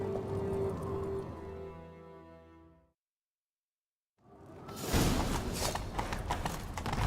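Horse hooves in The Witcher 3 video game, a steady clip-clop that cuts out to silence for about a second, then resumes as a louder, denser rush of galloping hooves and movement.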